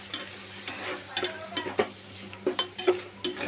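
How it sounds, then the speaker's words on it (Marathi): Homemade and Everest masala being stirred in a cooking pot for pulao, repeated scraping strokes of a spoon against the pot in an uneven rhythm over a soft background sizzle, close by and without talking. "आता हलवून घ्यायचं।"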